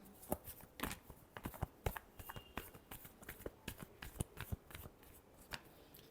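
A deck of tarot cards is shuffled over and over, producing faint, dense patters of soft slaps and light card riffles in an otherwise quiet space, without any speech.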